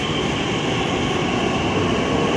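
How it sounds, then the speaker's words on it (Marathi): Pune Metro train pulling away from Ruby Hall Clinic station, a steady loud rumble and hum of the railcars filling the platform without pause. "चला ट्रेन गेली"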